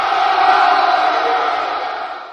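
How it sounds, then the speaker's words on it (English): A baseball-game crowd cheers in a sustained, loud roar that holds steady and eases off only slightly at the end, with no talking over it. "We get a cheer there."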